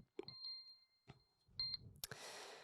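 A loud, sudden electronic ring bursts in after a few faint beeping tones, followed by a harsh buzzing tone that continues to the end.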